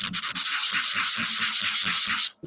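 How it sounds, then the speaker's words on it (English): A mesquite bowl is hand sanded on a stopped lathe, with quick rhythmic back-and-forth rasping strokes of abrasive on wood, close and loud, ending abruptly. "So I'll do a little spot sanding with the lathe off and try to take care of that."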